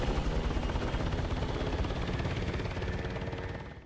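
A helicopter in a GTA Online cutscene gives a loud, steady rotor and engine roar with dense rhythmic chopping that persists throughout before easing slightly at the end.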